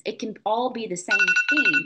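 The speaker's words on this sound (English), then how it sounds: "That was my phone alarm." A phone alarm goes off mid-sentence, a steady pulsing electronic tone with bright high partials that repeats in quick beats beneath a person's continuous talking.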